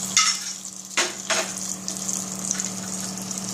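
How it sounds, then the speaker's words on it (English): Idli chutney stirred in a pan, with a few scraping strokes early on and a faint sizzle under a steady background hum, no talking. "and a little bit of stirring."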